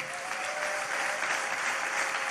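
Clapping from a church congregation praising God, a dense, steady wash of many hands filling the whole stretch at an even level.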